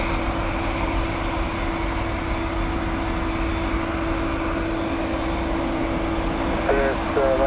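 Airbus A220 jet engines at TPA during plane spotting produce a loud, steady roar that fills the whole stretch without letting up.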